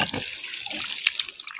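Tap water runs steadily into a bucket for a bath, a soft continuous splashing rush heard close by and alone.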